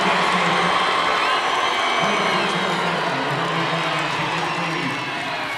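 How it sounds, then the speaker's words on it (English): Crowd roaring and cheering at a boys' high school basketball region championship game, a loud sustained wall of voices in a packed gym that holds steady and eases slightly at the end, with faint talk mixed in. "And the crowd is going to erupt on that one."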